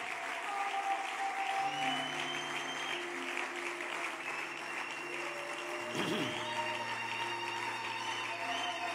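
Congregation in a church applauding the Lord while standing, a steady wash of clapping that fills the whole space, with sustained organ or keyboard tones running underneath and a brief low thump near the middle.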